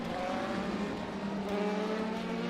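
A race car engine in rFactor 2 at the Spa circuit holds a loud, steady high-pitched drone, close and continuous, with no voices.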